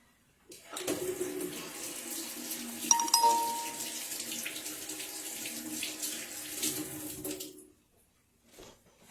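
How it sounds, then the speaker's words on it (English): Water runs steadily from a kitchen sink tap while hands are washed, a continuous close splashing flow of about seven seconds that cuts off at the end, with no voices. "Let me wash my hands"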